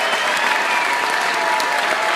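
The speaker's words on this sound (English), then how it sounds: "Keep that applause going for your headliner, Chris Rock" Thick, sustained audience applause fills a stand-up comedy show as the crowd cheers on headliner Chris Rock, steady and loud throughout with no break.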